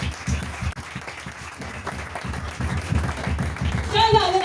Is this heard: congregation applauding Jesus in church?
yes